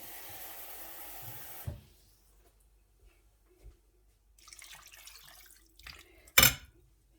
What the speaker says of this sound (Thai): เติมน้ำเข้าไปอีก